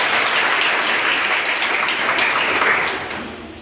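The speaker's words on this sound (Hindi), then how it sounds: "एक बार फिर से ताली बजाएं" Steady applause from an audience at a motivational talk on success, dense clapping sustained at full strength before tapering off near the end, with no speech over it.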